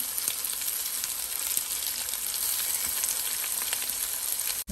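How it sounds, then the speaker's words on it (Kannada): Bitter gourd slices fry slowly in a pan over low heat, giving a dense, even sizzle close to the listener with faint stirring scrapes, then a sudden cut at the end. "ಇನ್ನೊಂದು ಸೈಡು ಅದೇ ಥರ ಫ್ರೈ ಆಗಲಿ."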